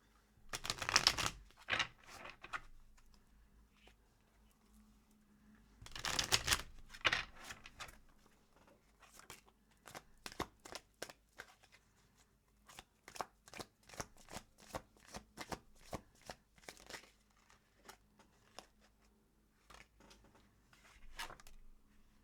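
Close tarot cards being shuffled: two fuller riffling bursts open, then a steady run of sharp individual snaps and flicks, with no talking.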